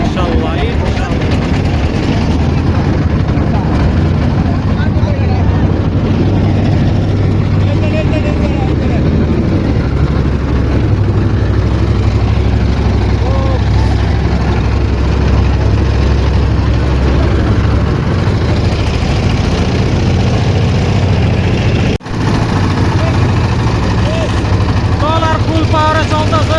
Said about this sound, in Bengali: ট্রলার ফুল পাওয়ারে চলতেছে।